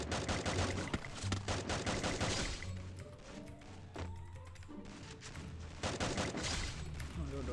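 Dense, rapid bursts of AN-94 rifle fire in the Free Fire mobile battle game, loud and continuous, with repeated shot volleys over game sounds and music.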